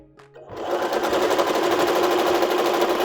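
A Zest sewing machine stitches a wide zigzag during home maintenance, running thread through to pick up leftover oil. A brief click comes first, then a loud, close, rapid needle chatter that carries on steadily to the end.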